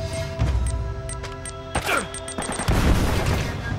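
Shotgun blasts and scattered gunfire in the video game Uncharted, several sharp cracks and booms spaced irregularly over a busy backdrop of game noise and crashes.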